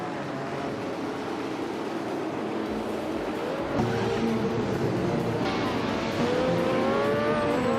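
Race cars roar together at the start of an arcade racing game, a continuous loud engine drone with rising revs and tire noise, no talk.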